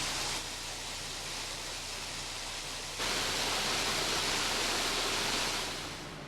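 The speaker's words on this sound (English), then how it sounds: "The 80-foot-high Rainbow Falls is one of the more popular waterfalls in the Smokies." Rainbow Falls, an 80-foot waterfall in the Smokies, roars as a steady broadband rush that swells louder partway through and holds without any voices.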